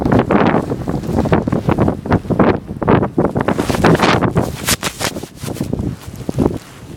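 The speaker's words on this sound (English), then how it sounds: "There is so much snow and wind" Blizzard wind in Chicago batters the microphone in loud, gusty roaring bursts, rough and continuous, with snow-laden gusts rising and falling throughout.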